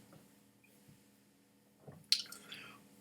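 Water added to a glass of Port Charlotte PAC:01 2011 Islay single malt Scotch whisky, heard as a brief close splash and trickle that follows a short quiet stretch.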